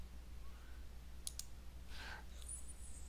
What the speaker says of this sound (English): click in the pane that opens, click new comment